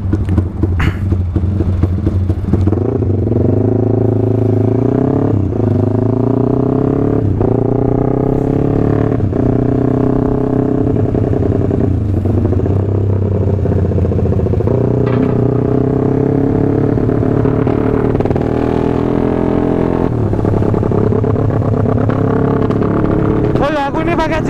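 A Suzuki Satria two-stroke motorcycle with a 240cc twin-cylinder engine revs loudly and continuously while riding at night on a quiet ring road. Its pitch rises and falls through gear changes, with wind rush close and steady throughout.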